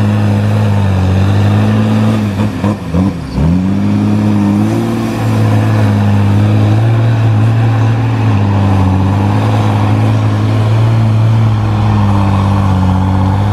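A Tigercat 635D skidder with a 6.7 liter Cummins engine set at 295 horsepower runs loud and close with a steady drone. Around the third second it dips and swells briefly as the revs change, then settles back to an even roar.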